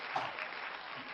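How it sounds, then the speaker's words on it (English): An audience at a real estate family reunion event claps steadily for an arriving speaker, a dense wash of applause close and loud throughout. "I want to give him a round of applause"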